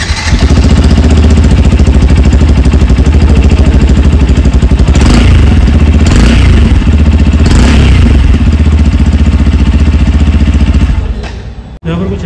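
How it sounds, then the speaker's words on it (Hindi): A Yamaha FZ-S motorcycle's exhaust idles steadily and loud up close for about eleven seconds, with a few light blips of the throttle, then the engine cuts off. "बाकी आपको सुनाते हैं इसका एग्जॉस्ट नोट।"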